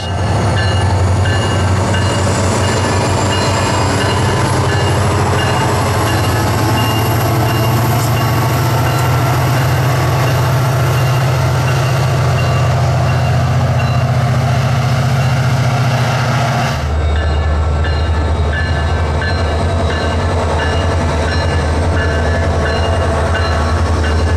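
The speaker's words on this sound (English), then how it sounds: "Trains were quickly coming and going, finishing up their rush hour duties in downtown." Trains rumble past close by in downtown Central Florida with a loud, continuous low roar and rattling cars, the tone shifting partway through as another section passes.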